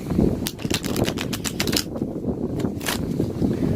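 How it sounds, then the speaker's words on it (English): A deck of oracle cards is riffled and shuffled, giving rapid bursts of crisp papery clicks and flutters in quick succession, close up and fairly loud, with no talking. "So we're gonna do some shuffles."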